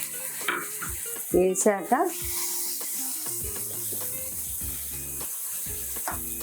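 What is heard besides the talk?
tomato pieces sizzling and frying in pan for prawn pulao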